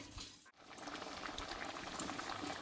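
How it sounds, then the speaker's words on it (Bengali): Papaya and egg curry boils steadily in a pot, a continuous close bubbling and popping that keeps an even loudness, with only a brief dip near the start. "দেখো বন্ধু তরকারিটা কিন্তু ফুটতে লেগেছে"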